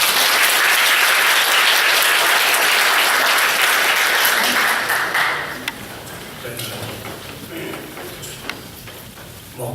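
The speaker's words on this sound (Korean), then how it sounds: "큰 박수로 맞아주시기 바랍니다" An audience at an overseas Korean forum on peaceful reunification claps in dense, loud applause for about five seconds, then it thins to a few scattered claps and room noise.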